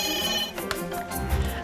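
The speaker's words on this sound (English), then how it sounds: "And the phone's going to go off again in a minute." A telephone ringing in a hospital A&E department, a steady electronic ringtone with layered tonal warbles that sounds loud and close against busy background noise.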